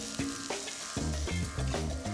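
Garlic, peppers and onion frying in a hot pan, a steady crackling sizzle with stirring and scraping bumps, close and without talk.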